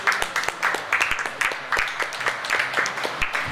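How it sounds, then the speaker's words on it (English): A comedy club audience in Pasadena claps for a performer, the claps landing in a fairly regular rhythm at moderate loudness while a voice talks over them. "Another round of applause for PJ."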